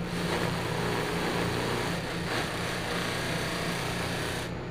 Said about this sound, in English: when I'm running it on the buffer